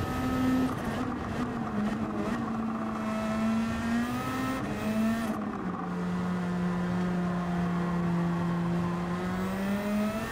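A race car engine in Gran Turismo 7 drones steadily at high revs, with a brief shift in pitch midway before it settles into a sustained, slightly lower whine. The sound is loud and close, with no voices.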